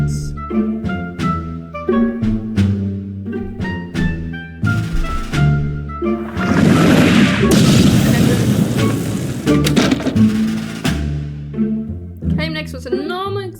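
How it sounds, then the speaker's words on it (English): An enormous rocket explosion with smoke erupts as a loud, sustained roaring blast, bracketed by dramatic rhythmic music with sharp hits before and after. "Came next was an enormous explosion with smoke."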